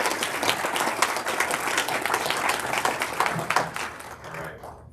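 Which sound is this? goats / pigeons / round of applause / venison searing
round of applause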